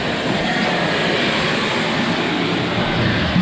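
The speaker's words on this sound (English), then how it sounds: "So I'm gonna vacuum this up while I do this" A shop vac vacuums a car interior during a Racetech installation, its loud, steady motor roar and airflow rush running unbroken and close throughout.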